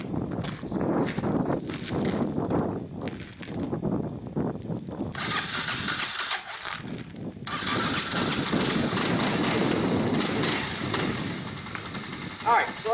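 A small engine with a freshly rebuilt carburetor runs on choke outdoors by a garage, a steady rough drone that swells loud midway, with a voice talking over parts of it.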